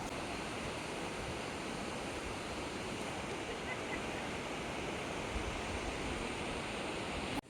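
A constant, dense roar of rushing water, loud and unbroken like a waterfall nearby, from the Boka waterfall at the source of the Soča (Isonzo) River in Slovenia, with a brief cut at the very end.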